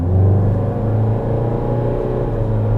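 A Nissan Qashqai with the 1.7-litre diesel and CVT pulls away at full power from a standstill, a loud, steady engine drone heard from inside the cabin, alone.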